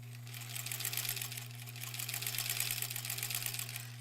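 A sewing machine, freshly oiled, cleaned and fitted with a new needle, stitches quilt border pieces for a granny squares quilt with a steady, close, continuous whir over a constant motor hum.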